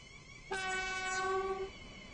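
A train approaching a station in the Stepford County game, sounding a horn-like chord of stacked tones for about a second over a low running rumble, fairly close and clear, with no talk.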